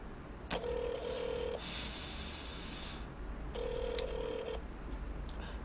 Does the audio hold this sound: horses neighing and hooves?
no